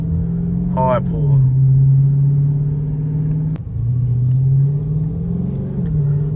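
A 2023 Dodge Charger Scat Pack with Dynomax Race Bullets exhaust rumbles loudly, with a deep, steady drone that dips and climbs again as the engine pulls, heard from inside the car.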